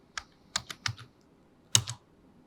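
Someone types on a computer keyboard in a few quick, light clusters of key clicks, close and quiet, with brief pauses between them.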